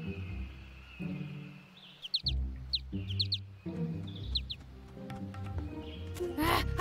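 Short high bird chirps and tweets in a bear cartoon, scattered among music and other busy sounds, moderately loud and intermittent with brief flutter-like bursts.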